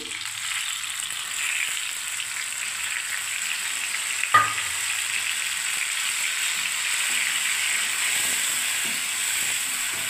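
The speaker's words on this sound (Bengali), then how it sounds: "পেঁয়াজগুলো লাল লাল করে ভাজা হয়ে গেল বন্ধুরা দেখুন। এবার আমি টমেটোটা দিয়ে দিচ্ছি" Onions fried until red sizzle steadily in a pan, with a short thud as tomato is added partway through, followed by continuous close frying hiss.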